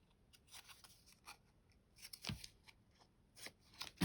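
Scissors snip paper corners for a handmade journal cover in a few quiet, close cuts with small crunchy clips in a hushed room.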